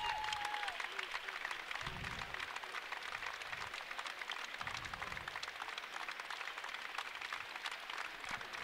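High school basketball crowd in a gymnasium gives a standing ovation to a player fouling out, sustained applause and crowd noise heard from a distance, with brief voices breaking through the clapping.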